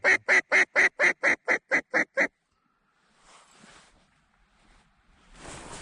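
Over mallard decoys, a loud, rapid string of about ten evenly spaced quacks rings out close by, then fades into faint rustling and wind-like noise.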